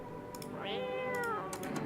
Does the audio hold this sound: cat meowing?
yes